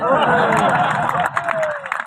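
Audience applause and cheering at an all-India Hindi poetry recital (kavi sammelan), a broad crowd of clapping with some babble, continuous and fairly loud throughout.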